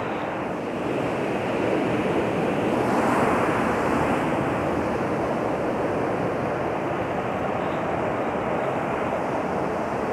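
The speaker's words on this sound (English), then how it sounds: "And big waves." Big waves crash and roll continuously at Playa Torreguadiario, Andalucia, Spain, on a grey, drizzly, cold day, mixed with gusting wind that buffets the microphone in a loud, broad roar.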